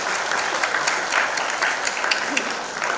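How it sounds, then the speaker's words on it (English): A large audience at the FICCI Frames industry event breaks into continuous applause, a loud, dense wash of many hands clapping. "So huge round of applause to all these films"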